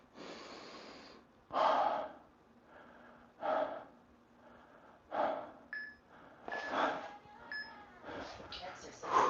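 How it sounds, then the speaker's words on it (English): Heavy breathing after a set of pull-ups in a HIIT workout: loud, close gasps and snorting exhales in an uneven rhythm, with a couple of brief beeps. "Catching my breath from those pull-ups."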